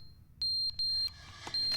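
Fire alarm in a video game beeping in three sustained high electronic tones, each roughly a third of a second long with short gaps, clear over a faint low background hum.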